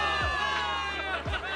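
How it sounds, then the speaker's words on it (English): A crowd in the video game Zenless Zone Zero cheers for victory, a loud wash of many voices shouting and whooping together, with brief rising whoops standing out over the sustained roar. "Give it up for yourselves, soldiers! Cheer for victory!"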